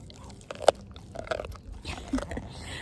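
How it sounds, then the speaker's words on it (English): A dog gnaws on a bone up close, giving a few sharp crunching bites spaced irregularly over a quiet background with no talking. "Sorry about the bone chewing."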